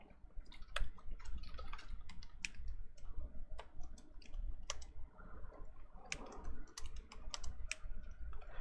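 Someone types on a computer keyboard at a steady pace, close and fairly loud, irregular bursts of key clicks with short pauses and a faint background hum, no speech.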